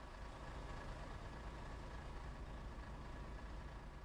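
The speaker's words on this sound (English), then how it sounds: "I don't know why I can hear the engines from this far away." Distant truck engines in the ProMods truck-driving game, a steady low rumbling drone with no breaks, faint and far off.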